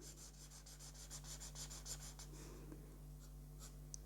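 A marker drawing across paper, with soft repeated squeaky strokes in a quick rhythm that later thin to a few isolated scratches, close and quiet against a low steady hum.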